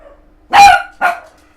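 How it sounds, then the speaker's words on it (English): A dog indoors gives two sharp, loud barks close by, the first longer and stronger, the second shorter, against an otherwise quiet room. "let me let the dog out here"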